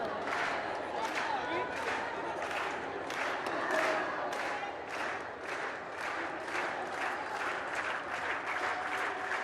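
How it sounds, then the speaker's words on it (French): Spectators applaud in a gymnasium at the final of a club volleyball championship, a fairly distant, steady patter of clapping with some crowd noise, continuing throughout at moderate level. "l'applaudissement des spectateurs présents ici au gymnase Pandita Hadeba Vakwa"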